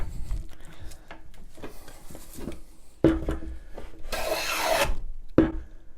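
Hand plane shaving pallet wood on a Workmate bench, with several rasping strokes of varying length, one long bright stroke standing out, close and fairly loud with a knock at the start of some passes.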